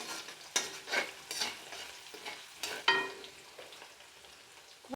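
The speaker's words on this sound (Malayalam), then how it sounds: "കോരിയ എണ്ണയിലാണ് വെളുത്തുള്ളി ഇട്ട് വറുക്കുന്നത്" Plenty of garlic frying in coconut oil for beef pickle: a soft, quiet sizzle broken by a few sharp scrapes and clinks as a spoon stirs the pan, close by and without talk.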